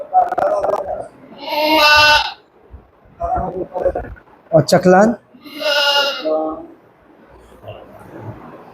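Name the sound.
Hyderabadi breed goats bleating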